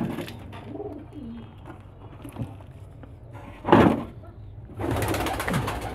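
Domestic pigeons in a loft, some sick and some healthy, nesting with eggs and squabs, give soft intermittent cooing and low murmurs, with a louder flutter-like burst midway and busier rustling near the end.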